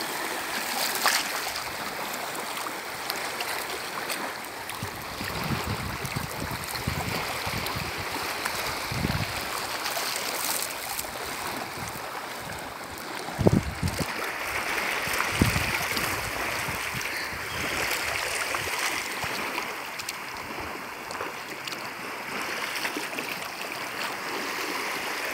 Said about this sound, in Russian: С двух сторон вода тут волнами сливается.